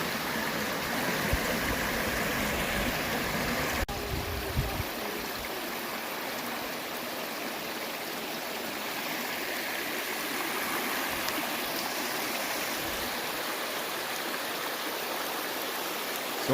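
Creek water pours steadily over rocks in a constant, full rushing wash that stays even and close throughout, with no voices, at a spot where people slide down the rocks in summer.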